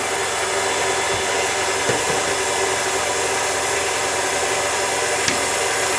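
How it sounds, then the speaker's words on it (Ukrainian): Electric mixer whipping egg yolks with sugar for a cherry soufflé cake, a steady, loud, dense whir that runs unbroken throughout with faint clinks of the beaters against the bowl and no talking. "Паралельно в іншій ємності збиваємо яєчні жовтки"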